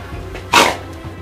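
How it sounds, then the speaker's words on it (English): A dog gives a single short bark indoors, near and fairly loud, against a quiet room background. "That's Mandy, that's the dog."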